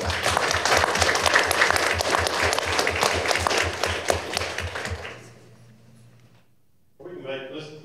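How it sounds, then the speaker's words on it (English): An audience at a city council meeting claps in a dense, steady burst of applause for about five seconds, then it fades to near silence before a faint voice begins. "Let's give these folks a round of applause."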